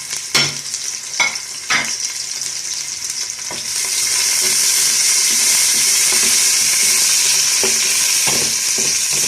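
Medium-sized onion and finely chopped garlic cloves fry in a pan, first with a few sharp clanks and stirring knocks, then a loud, steady sizzle that swells and holds close.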